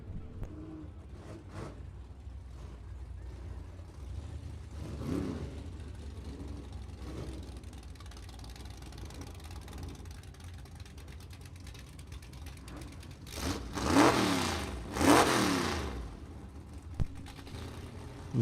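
Willys sedan vintage drag race car at a drag strip, its engine revving in two loud, rising bursts near the end over a steady low mechanical rumble.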